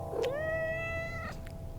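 A cat at Pattaya Zoo lets out a single drawn-out meow that rises and then holds, close and clear over a low murmur of background noise.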